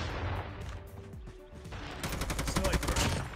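Gunfire in the mobile shooter Call of Duty Mobile with an M4 rifle: rapid bursts of shots, louder and denser toward the end, over game noise and faint talk.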